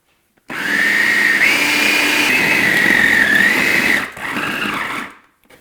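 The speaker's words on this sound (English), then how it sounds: "And then we'll blend this on high until it all comes together." A food processor runs on high, churning a thick chickpea chocolate dough with a loud, steady whirring whine that dips and strains briefly near the end before cutting off.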